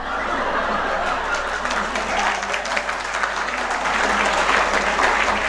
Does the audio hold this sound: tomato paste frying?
no